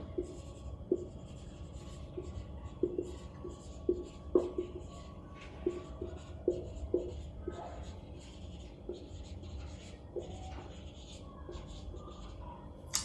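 Pen strokes sound during a Class 9 chemistry lecture on chemical reactions, with quiet scratchy writing ticks coming in short irregular bursts under a woman's soft spoken explanation.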